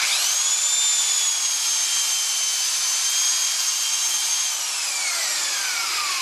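A drill spins a cork applicator at high RPM and very low pressure on a ski or snowboard base, giving a steady, bright whirring hum that slowly drops slightly in pitch near the end, with no voices.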